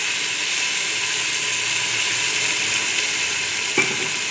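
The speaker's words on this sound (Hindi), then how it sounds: "थोड़ा सा इसकी भुनाई करके इसको पानी लगा देंगे हम।" Chana dal fries in a pot with oil, a soft continuous sizzle throughout, with a single brief clink of a utensil near the end.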